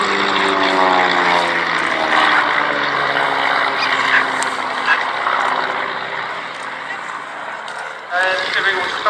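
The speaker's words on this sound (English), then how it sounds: "as our unique formation runs in once again from our right" Vintage propeller aircraft fly past in formation at the Shuttleworth Edwardian pageant airshow, with a loud, sustained engine drone whose pitch slowly falls as they pass. A commentator talks over the engines.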